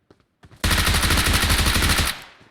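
Rapid automatic gunfire in a Turkish-played online shooter game, a dense sustained burst of about a second and a half after a few faint clicks, loud and close with a short tail.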